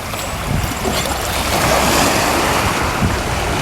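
Ocean waves wash continuously along a harbor shoreline, a broad steady roar with gentle swells and some wind buffeting the microphone, no voices.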